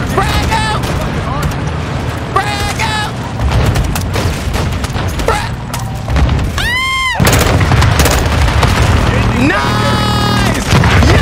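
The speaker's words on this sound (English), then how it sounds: "I got grenades! Frag out!" Frag grenade blast in the Modern Warfare 2 shooter game, a deep boom amid a dense firefight with gunfire, sirens and crackling effects, with players shouting over the chaos.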